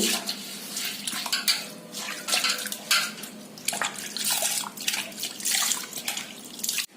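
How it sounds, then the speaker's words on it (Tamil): Water splashes and sloshes over a dosa griddle stone in irregular bursts, close by, with scrubbing and the clink of the heavy stone. "கல்லு கழுவி கொஞ்சம் தண்ணி எடுத்துக்கோங்க."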